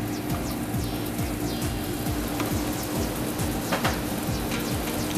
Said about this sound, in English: We're going to add a little bit of oil. We're going to saute some garlic.